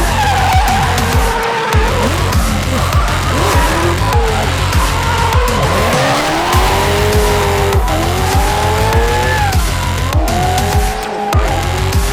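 A drift car at a Rabocsiring drift event skids with loud, continuous tire squeal that rises and falls in pitch over a revving engine, close and sustained without speech.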